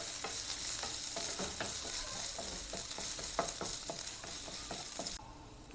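Chopped garlic and ginger sauté in hot oil in a pan, a steady close sizzle with repeated scraping stirs running throughout, easing slightly near the end, no talking.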